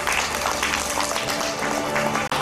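Audience at a climate-friendly school meals conference in Gyeonggi applauding as speakers are called to the stage, a loud, dense burst of clapping that continues evenly before cutting off abruptly.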